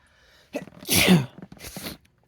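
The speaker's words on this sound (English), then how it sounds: "excuse me, I gotta sneeze." A single close, loud sneeze with a short inhale beforehand and a brief breathy sound after, otherwise quiet.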